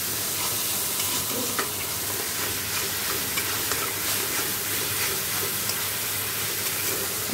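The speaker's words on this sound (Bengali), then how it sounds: "দেখো জিরে ধনে কাশ্মীরি লঙ্কার গুঁড়ো দিয়ে ভালো করে মশলাটা কষিয়ে নিচ্ছি, আর ফুলকপি আলুটা দিয়ে দেবো মশলাটা কষিয়ে।" Cumin, coriander and Kashmiri chili powder masala frying in a pan, a dense continuous sizzle with the light scrape of stirring throughout, close and steady, no talk.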